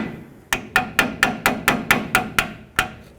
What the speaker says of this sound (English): I'm gonna try to hammer on it so I can break it free